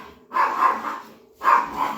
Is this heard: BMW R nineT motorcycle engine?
no